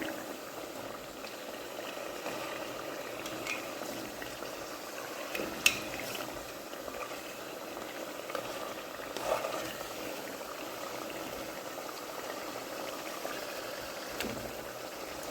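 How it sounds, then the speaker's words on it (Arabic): Algerian chicken and vegetable stew base with ginger and saffron frying in a pot, giving a steady, even sizzle and bubbling that runs throughout with no voices over it. "كما تشوفوا راه يتقلى."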